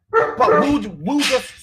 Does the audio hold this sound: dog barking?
yes